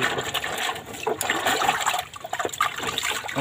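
Clear water flows and trickles steadily at a rural spot, a close, continuous gushing wash with small splashy surges and a brief dip in level partway through, no voices over it.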